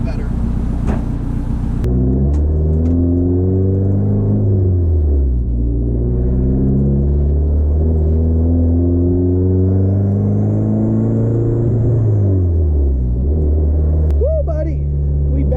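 A turbocharged Nissan 240 drives along from inside the cabin, its engine droning loudly as the pitch rises and falls through several pulls and shifts, with some talk over it.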